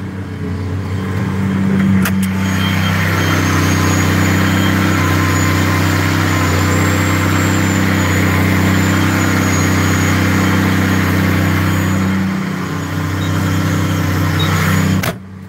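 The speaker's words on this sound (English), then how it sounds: "This is a MX 255 case Magnum tractor." A Case Magnum MX 255 tractor engine idles steadily and close, a loud, constant low rumble with a faint high whine above it, briefly dipping near the end.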